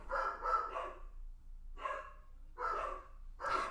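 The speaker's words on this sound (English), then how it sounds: "sorry about the dogs. I don't know what they're freaking out over." Dogs bark indoors in four bursts of rapid, overlapping barks separated by brief pauses, moderately loud and a little distant.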